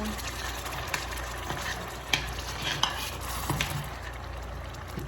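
Tomato paste dropped into a very hot pan while making Cajun seafood sauce gives a steady, close sizzle and frying hiss, with a few soft stirring scrapes and clicks across the few seconds.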